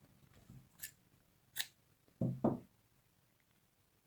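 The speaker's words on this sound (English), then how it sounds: "Just snip your yarn" Crochet yarn being cut with scissors: a few quiet, close snips and clicks, spaced apart, with two fuller cuts near the middle in an otherwise quiet room.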